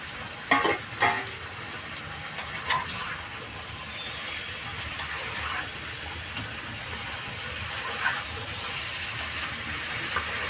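Slit green chillies drop into a mixed vegetable curry frying in a pan, a few quick clatters followed by a steady low sizzle and hiss.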